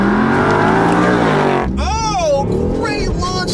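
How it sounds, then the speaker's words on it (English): BMW i8 hybrid sports car launching hard in a drag race and shifting through gears, a loud sustained engine roar with a sharp upward sweep near the middle and further rising pulls, heard alongside a voice. "Great launch of the i8 actually shifts super hard."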